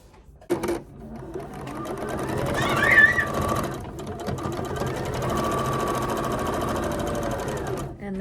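A sewing machine stitches a quarter-inch seam joining quilt block pieces, running steadily and close for most of the span after a brief start, with a short pause partway through.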